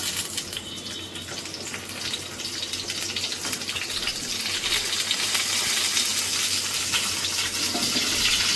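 Spice paste of tomato, onion, garlic, ginger and chili frying in a pan for chicken curry, a steady broadband sizzle that swells slightly louder over several seconds, no voices.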